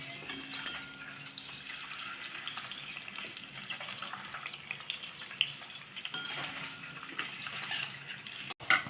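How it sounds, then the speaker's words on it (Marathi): Boiled eggs fry briefly in hot oil in a kadhai for egg curry, a continuous bright sizzle with light stirring scrapes and occasional pops, close and steady throughout. "थोडा वेळच असे परतून घ्यायची गरम तेलात अंडी"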